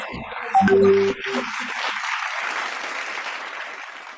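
Audience applause at the ASMA India's Top 30 Marketers award ceremony, a sustained wash of clapping from a hall crowd that follows a short loud burst of sound and continues steadily to the end.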